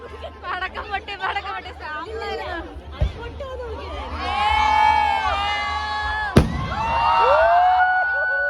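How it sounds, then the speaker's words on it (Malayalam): A firecracker bursts with a sharp bang over a noisy, cheering crowd at an outdoor New Year celebration in Nepal, one loud crack standing out near the end amid continuous chatter, shouts and whistle-like tones. "പടക്കം പൊട്ടി"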